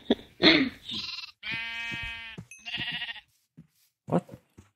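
Sheep in a video game bleating loudly and close, several drawn-out wavering calls in a row with short gaps between them and no talking.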